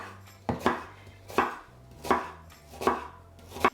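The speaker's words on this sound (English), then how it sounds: "Now we're going to cut the red onion in slices." A knife slices through a red onion on a board, making five evenly spaced crisp chops, close and clear with no talking.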